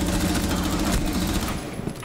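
Rapid automatic gunfire in a tactical shooter video game, a dense burst of close, loud shots lasting under two seconds and then cutting off abruptly.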